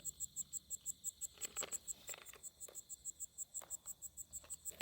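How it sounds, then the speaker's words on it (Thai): Crickets chirp in a field at night in Isan, northeast Thailand, a dense, loud, close chorus of rapid, evenly pulsed trills running unbroken throughout. "คลิปนี้หาจิ้งหรีดค่ะ"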